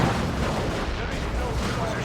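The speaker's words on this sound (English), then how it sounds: "Is that assault cannon assaulting some guardsmen?" Rapid heavy weapon fire from an assault cannon in the Warhammer 40,000: Dawn of War 2 strategy game, a dense, continuous rumbling barrage of blasts and booms filling the short stretch without pause.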